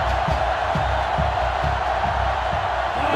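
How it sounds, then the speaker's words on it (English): Sellout stadium crowd in the NCAA Football 2005 video game, a Clemson game, roaring as a steady wash of cheering throughout, loud and dense with no clear speech on top. "This sellout crowd is really making a difference now as these guys can't even call the play."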